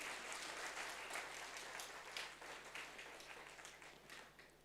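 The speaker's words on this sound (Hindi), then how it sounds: "ताली बजाइए" An indoor audience at a Brahma Kumaris spiritual talk claps together, dense and lively at first with individual hand claps standing out, then gradually thinning and fading toward the end, with a faint steady electrical hum beneath.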